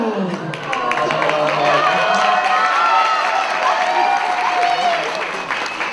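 An audience at a cosplay contest breaks into loud, sustained clapping mixed with cheers and scattered voices. The clapping swells after the first half-second and stays full before easing slightly at the end.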